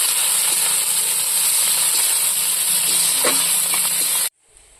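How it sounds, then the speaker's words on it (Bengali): Onions tipped into hot oil for a Bengali chicken kosha, giving a loud, steady broadband sizzle that runs unbroken for about four seconds and then cuts off abruptly into near silence. "তেলটা গরম হয়ে গেছে এখন আমি পেঁয়াজগুলো দিয়ে দেবো"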